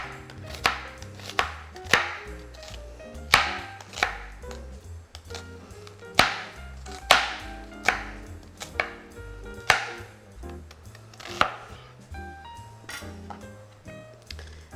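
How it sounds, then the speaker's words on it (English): A knife slices an onion into thin strips on a cutting board, sharp close chops knocking out one after another at a steady pace, with some background music. "We're gonna go ahead and slice our onion."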